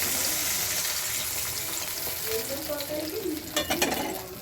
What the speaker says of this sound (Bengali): এই যে একটু জল দিয়ে দেবো।